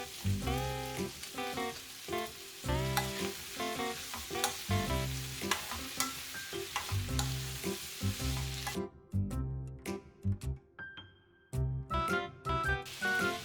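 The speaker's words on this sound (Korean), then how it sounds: "양파 겉부분이 투명색이 되면 감자채를 넣어주세요." Julienned potatoes and onion stir-fried in a pan, giving a steady sizzle with repeated scraping stirs over soft background music. The sizzle cuts out near the end, leaving sparse clicks and pops.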